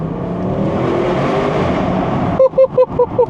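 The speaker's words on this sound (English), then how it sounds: "what does this RS6 sound like? Sports exhaust on this one" A 2020 Audi RS6 engine hums at a steady idle, then its sports exhaust barks through a quick series of five or six sharp, loud revs close by.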